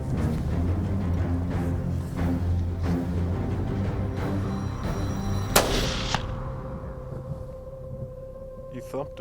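A rifle shot at a bull elk during a hunt cracks out as a single sharp, loud report partway through. Voices talk quietly before it, and a faint ringing tail follows.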